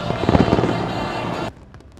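Fireworks at the Da Nang International Fireworks Festival 2023 produce a loud, dense crackling roar of bursts that cuts off sharply after about one and a half seconds, leaving faint background.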